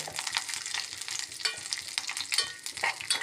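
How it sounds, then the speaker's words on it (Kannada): Chopped soaked, peeled almonds roasting in a little ghee in a pan, giving a steady close sizzle broken by scraping stirs and light clinks, with no talk. "ತುಪ್ಪ ಹಾಕ್ಕೊಂಡು ನಾನು ನೆನೆಸಿದು ಸಿಪ್ಪೆ ತೆಗೆದಿರೋ ಬಾದಾಮಿದು ಕಟ್ ಮಾಡ್ಕೊಂಡಿರೋದು ನೆನೆಸ್ಕೊಂಡು ಅದು ಹಾಕ್ಕೊಳ್ಳಿ ಹಾಕ್ಕೊಂಡು ಸ್ವಲ್ಪ ರೋಸ್ಟ್ ಮಾಡ್ಕೊಳ್ಳಿ"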